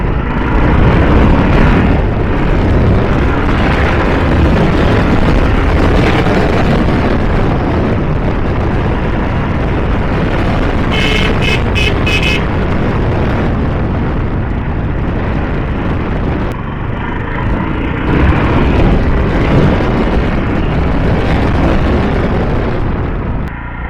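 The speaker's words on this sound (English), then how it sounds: "Now let's check the speed of this bike." A Jawa Khaki Edition motorcycle runs at speed, its engine roar loud and continuous, heavily blended with rushing wind buffeting across the whole stretch.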